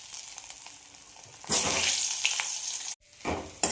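Potatoes hit a hot pan with red chillies, turmeric and kasuri methi for a Marathi chutney, bursting into a loud sizzle that holds steady, with a brief break and a stir near the end.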